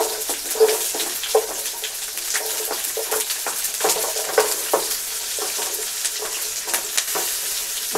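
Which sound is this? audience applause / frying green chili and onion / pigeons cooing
frying green chili and onion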